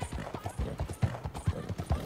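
A horse's hooves clip-clop at an even walking rhythm in Red Dead Redemption 2, close and steady, with each footfall distinct and moderately loud.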